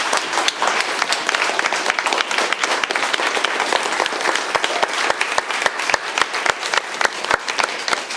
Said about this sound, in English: So a round of applause for our fursuiters.